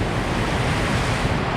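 Winter rain storm at the Rockingham foreshore: strong wind buffets the microphone over a dense, constant roar of rain and breaking waves, loud and close throughout.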